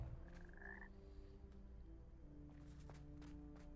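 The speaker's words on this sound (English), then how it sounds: "Teleporting frog statues." A frog statue in the Hogwarts Legacy video game lets out a short rattling croak, followed by faint game ambience and soft footsteps in a quiet room.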